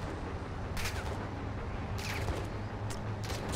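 Gunfire in Call of Duty Modern Warfare 2: sharp bursts of shots in a few separate volleys, fairly loud over steady game background noise, with no talk.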